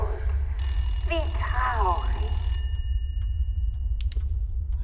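A telephone rings in the Resident Evil 8 DLC game world, its bright steady ringing tone sustained for about two seconds over a constant low game rumble, with a brief voice-like warble in the middle.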